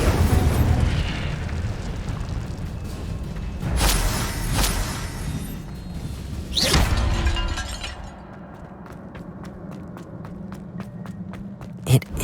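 A fire spell is cast in Hogwarts Legacy, with several whooshing, crackling bursts of flame and a couple of heavy impacts spread across the clip, followed by quieter footsteps and small clicks.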